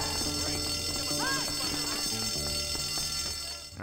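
A school fire alarm rings in Bully: Scholarship Edition, a loud, continuous bell-like tone that holds throughout while a voice speaks over it.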